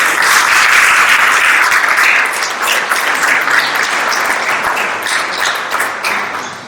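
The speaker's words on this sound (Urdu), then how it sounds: "اور بہت ساری تالیاں بھائی صاحب" Loud, dense applause from an audience at an Urdu book launch, steady for about two seconds and then easing slightly while continuing to the end.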